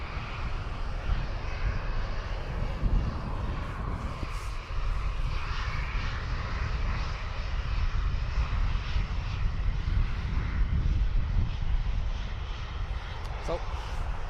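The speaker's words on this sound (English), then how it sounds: "Ryanair operated by Malta Air, heading off to Lisbon." A Ryanair airliner operated by Malta Air takes off from Dublin Airport bound for Lisbon, its engines a steady, broad roar that holds for the whole stretch, with faint talk underneath.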